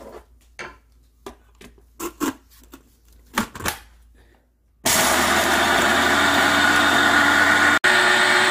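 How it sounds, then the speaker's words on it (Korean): A loud, steady blender grinding dried green onion starts abruptly after a few soft knocks and rustles, running continuously with a brief cut near the end. "이거를 믹서기에 넣어줍니다."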